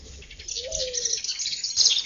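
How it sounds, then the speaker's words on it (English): A single bird gives a short, sliding chirp over a brighter, busy wash of distant birdsong. "you can hear the birds just going crazy all of the time"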